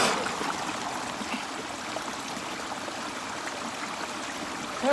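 Water runs down a small eroded channel in a steady, close trickling wash that holds an even level throughout, with no voices over it.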